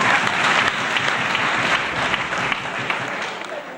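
Audience applause at a teacher recognition and award ceremony, a dense steady wash of many hands clapping that holds at full strength throughout with no voices above it.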